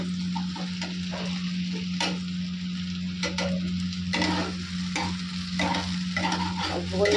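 Dal simmering in a pan on a home stove, with steady sizzling and intermittent scraping stirs over a constant low hum from the burner or a fan, close and moderately loud.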